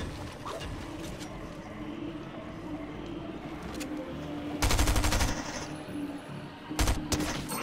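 Gunfire crackles in Fortnite: scattered lighter shots and rattling bursts throughout, with two loud, close, sharp volleys standing out near the middle and end, and no talk over them.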